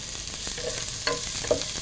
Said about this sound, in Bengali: আমি একটু কাঁচা মরিচের ফোড়ন দিব